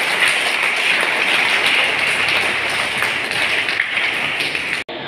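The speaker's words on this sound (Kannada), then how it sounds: "ನಾವೆಲ್ಲರೂ ಇದಕ್ಕಾಗಿ ಚಪ್ಪಾಳೆ ತಟ್ಟಬೇಕು" An audience claps continuously at a school Kannada Rajyotsava celebration, a dense, loud wash of applause that stops abruptly near the end.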